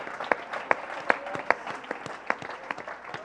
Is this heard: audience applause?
yes